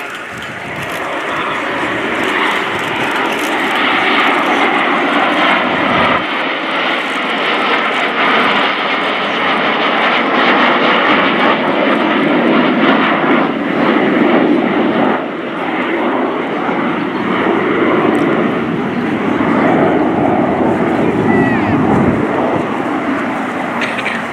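Two BAE Hawk T2 jets flying slowly in close formation, landing configuration, at an air show roar overhead in a loud, sustained engine drone that swells and shifts in pitch as they pass.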